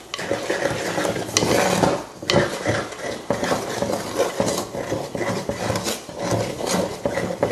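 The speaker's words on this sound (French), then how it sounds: "on met les 300 ml d'eau et on brasse pour tout mélanger" Flour and 300 ml of water stirred together into bread dough in a bowl, a close rough scraping and rubbing in uneven strokes with occasional knocks against the bowl, with no talk.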